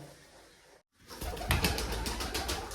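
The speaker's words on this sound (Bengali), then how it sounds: "আর বেশিরভাগ পায়রা আছে আমার এই ঘরের ভেতরে।" Pigeons in an indoor coop with soft, dense fluttering and shuffling after a brief silent gap, low cooing mixed in, moderately loud and close, with no talking.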